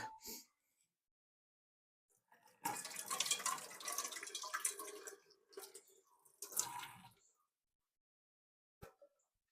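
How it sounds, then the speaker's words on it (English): Leeks rinsed under a running kitchen tap: a brief splash, then a steady rush of water for several seconds, a short pause and a second burst, with a faint tap at the end. "Now run it under water, and that way you're getting each layer."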